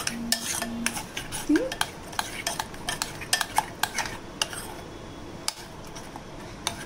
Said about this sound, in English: Milk is added to loosen the sauce.